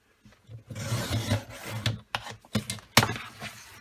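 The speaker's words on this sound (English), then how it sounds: "I'm going to go ahead and trim this other sheet that I've got as well." A sticker sheet is trimmed by hand in a series of close, dry rasping cuts and scrapes of uneven length, with short pauses between strokes, in a quiet room.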